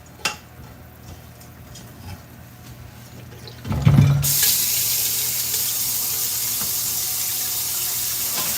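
A kitchen faucet is turned on while pots and pans are washed, starting as faint clinks and handling before water bursts out and then runs steadily and loudly at close range, with no talking.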